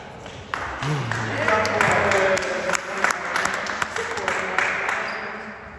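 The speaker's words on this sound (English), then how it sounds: "let's give a round of applause" A theater audience at an Imagination Theater show claps to welcome a volunteer onto the stage, with applause building and fading while voices talk over it.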